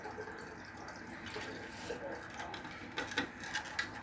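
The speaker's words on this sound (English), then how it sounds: "Cause she's putting 1 cup of cherry apple juice in there." Cherry apple juice pours into a container as a summer drink is mixed, a soft, faint liquid trickle and splash with a few louder bursts near the end.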